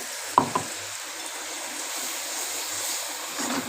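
Prawn malai curry masala sizzles in a pan as it is sautéed, a steady soft frying hiss with a sharp clink of a utensil near the start and a brief scrape toward the end.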